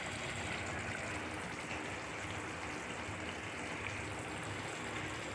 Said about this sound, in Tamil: கூட்டு கொதிச்சிட்ருக்கு.